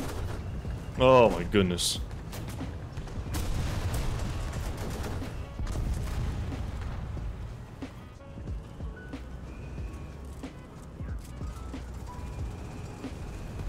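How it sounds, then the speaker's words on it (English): Explosions and bursts of gunfire in War Thunder rumble through a chaotic tank battle, with a loud blast near the start followed by scattered booms and sharp cracks, while a player speaks briefly over the din. "There's explosions and things happening everywhere right now."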